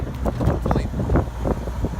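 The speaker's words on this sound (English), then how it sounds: "It's probably way too windy to even hear us right now" Strong wind buffets the microphone with low rumbling gusts, while voices speak faintly underneath.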